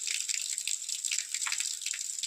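Clean drinking water flowing steadily from a tap or spout in a Garhwal village in Uttarakhand, a close, continuous bright splashing with no talk over it.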